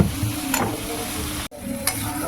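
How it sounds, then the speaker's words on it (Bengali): Water poured over mustard paste in a hot pan sets off a sharp sizzle, with brief stirring scrapes and a quick break in the sound midway. "একটু জল দিয়ে দিই আর সর্ষেটা দিয়েছি আর বেশি ভাজবো না"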